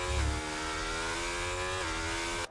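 A Sauber Formula 1 car in the F1 2024 racing game screams at high revs on the Bahrain circuit, a steady, loud, harmonic engine whine that holds pitch, dips briefly and rises again before cutting off abruptly.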